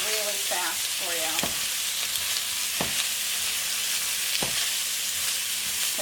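Ingredients stir-fried in a wok for fried rice sizzle steadily and close, with spatula scrapes and knocks every second or two. A brief voice is heard at the start.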